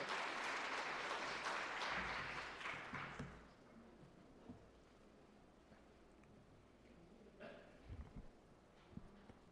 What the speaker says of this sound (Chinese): 我们真是拍手欢迎好了，神学生江景